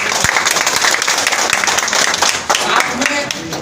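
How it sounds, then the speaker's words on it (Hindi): Loud, dense clapping from an audience at a public gathering in India, sustained for several seconds with some crowd noise mixed in. "एक बार जोरदार ताली अपने लिए बजाइए।"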